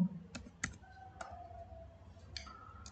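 Keys clacking on a computer keyboard while Arduino code is typed, a few sparse close clicks in short bursts in a quiet room, no speech.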